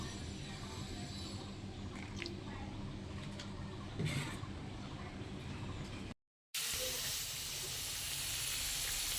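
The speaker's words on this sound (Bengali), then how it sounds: "আলুটাকে ভালো করে ভেজে নেব।" Potato pieces frying in hot oil make a continuous hissing sizzle, broken by one short silent gap and then louder, with no voice over it.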